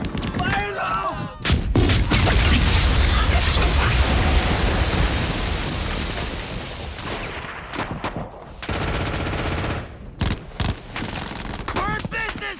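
Explosive charges detonating under barbed wire in a Saving Private Ryan war film scene: a long, loud roaring blast sequence with rumbling debris, then sharp separate bangs and gunfire-like cracks toward the end, with shouting voices mixed in.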